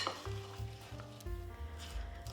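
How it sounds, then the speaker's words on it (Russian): A spoon stirs bright, fragrant apples into a soft butter dough for apple pie, giving a wet, sticky churning, close and steady with no talk. "Яркие душистые яблоки отправляем в ароматное сливочное тесто и хорошо перемешиваем"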